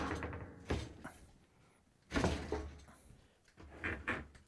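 A Whirlpool dishwasher is pulled out from under the kitchen counter with a few scraping, knocking slides and bumps, fairly quiet and close, separated by short pauses.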